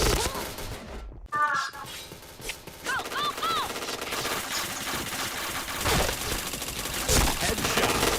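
Rapid bursts of gunfire ring out in a multiplayer shooter during a rainy match, loud and dense automatic fire with sharp tonal game effects layered over it and some background chatter.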